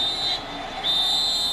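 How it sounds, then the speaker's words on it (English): A referee's shrill whistle sounds at an NFL football game between the Patriots and the Bills, two long steady blasts with a short break, over a constant stadium crowd roar. "now we get a whistle on the field"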